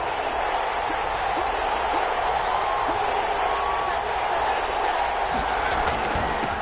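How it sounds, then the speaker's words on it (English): Steady roar of a stadium crowd in an American football video game on PS4, a dense continuous wash of cheering with no talk over it. "the crowd getting into it as we come up on a big third down"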